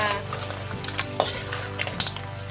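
Mixed seafood and ginger sauté in a pan with a continuous sizzle, punctuated by a few light clinks and scrapes of a utensil against the metal.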